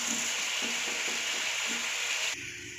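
Onions fry in a pan for Vellore-style seeraga samba chicken biryani, a steady close sizzle with a faint repeated scrape of stirring before the hiss suddenly drops lower near the end.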